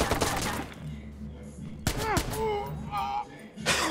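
Gunfire from the video game Watch Dogs: sharp bursts of shots crackle at the start and again in the middle and end, mixed with whooshing, sliding game effects and a brief human-like outburst, moderately loud.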